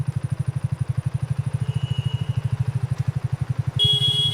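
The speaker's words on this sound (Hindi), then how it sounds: "बाइक को जल्दी से रोक।" A motorcycle engine idling close by with a steady, rapid putter, then a sudden high electronic tone cuts in near the end.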